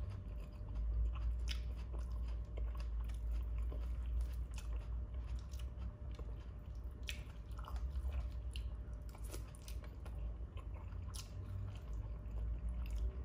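Someone chewing and eating sardines at a meal, with a steady run of soft biting, squishing and wet mouth sounds close to the microphone over a constant low background hum, and no talking.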